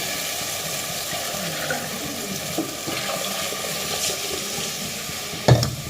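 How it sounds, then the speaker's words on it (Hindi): Tempering sizzling in a pan while making kadhi, a steady close hiss and crackle throughout with faint stirring, ending in a brief louder clatter near the finish. "तो जी छोकते हैं"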